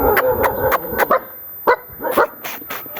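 A village dog barks in sharp, repeated yaps with short gaps between them, loud and close, with a few whimpering yips mixed in and no talking.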